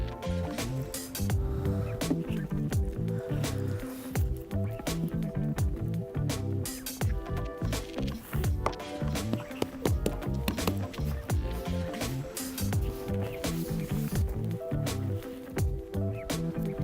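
Cracker dough kneaded by hand outdoors, a continuous close, wet squishing and slapping with an irregular, busy rhythm.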